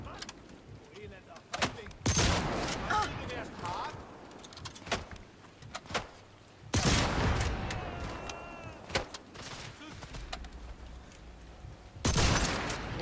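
Gunfire in a video game, bursts of loud rapid shots coming in separate volleys with quiet gaps between them and mechanical clicks and clatter in the lulls.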